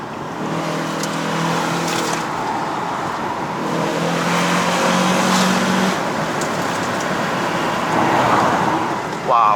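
A Toyota Camry XV70 Hybrid Ascent Sport climbs the winding road up to Genting in Malaysia, its engine humming and revving in steady pulls with shifting drone and road noise as people talk over it inside the cabin.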